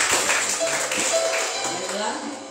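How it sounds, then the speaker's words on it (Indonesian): Church congregation clapping during a Sunday service at Gereja Sungai Yordan Solafide, a dense, steady patter of many hands under continuous voices and room sound. "tepuk tangan yang meriah buat Tuhan Yesus"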